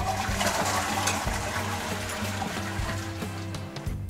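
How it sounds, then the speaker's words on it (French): A tank toilet flushes after its water supply valve has been shut off, with a loud, continuous rush of draining water and a low gurgling rumble lasting several seconds, no talk. "Puis, tirez la chasse."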